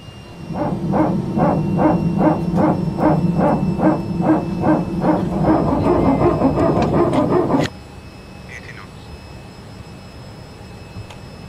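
Jet engines of a Fokker F28 airliner in Microsoft Flight Simulator, a loud steady roar with a rhythmic pulsing whine that cuts off abruptly, leaving faint low hum.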